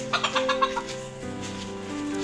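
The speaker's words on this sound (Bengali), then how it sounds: "আমাদের মুরগিগুলার কাজ দেখেন সবগুলার মুরগি এই যে এখানের মধ্যে আসি" Chickens cluck close by in a sunny yard, several quick clucks in a row and then a softer, steadier murmur from the flock.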